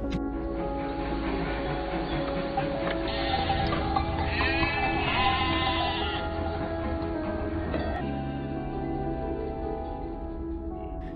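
A flock of sheep being herded into a pen, repeated wavering bleats from several animals over a low steady background, some calls close and loud, others overlapping further off.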